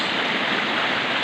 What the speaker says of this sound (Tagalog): Ito po siya ay isang falls.